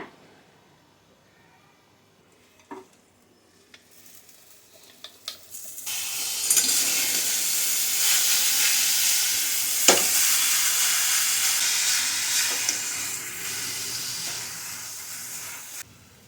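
Dark jaggery dropped into a hot pan for modak filling, starting with a few scattered clicks and knocks, then a loud steady sizzle as it melts and is stirred, with a sharp clunk partway through.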